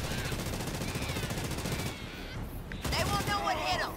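Rapid bursts of gunfire from ground troops in a video game, dense and continuous for the first half, then briefly quieter before another loud volley, with game voices mixed in underneath.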